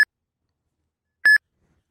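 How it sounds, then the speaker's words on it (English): Two short electronic beeps from an Uber driver phone app signalling a trip request, one at the very start and another about a second later, clear and tonal with nothing else around them. "Your phone will start beeping, and the screen will flash."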